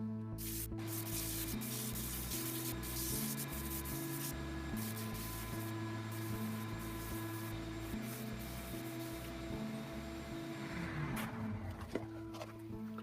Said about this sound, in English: now I'm going to start sanding the inside, once again, with the coarse, working to the fine sandpaper